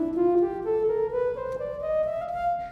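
A smooth, reedy electronic wind instrument tone plays a continuous legato bebop scale line that climbs steadily upward, alone and fairly loud.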